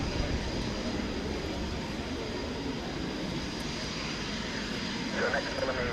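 Avro 652A Anson C19 G-AHKX departing at the RIAT 2016 airshow, its piston engines giving a steady broad rumble that fills the whole stretch at moderate distance, with radio chatter underneath.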